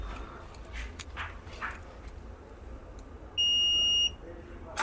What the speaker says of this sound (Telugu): So line to line, so buzzer వస్తుంది.